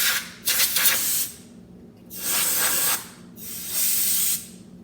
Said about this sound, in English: Lastly, I use compressed air to get the rest of those out of there.